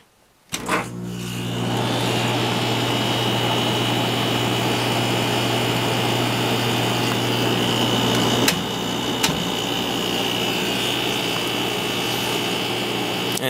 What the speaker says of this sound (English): the compressor is loud at first, just like it is with that one, but it quiets down significantly after it runs for a while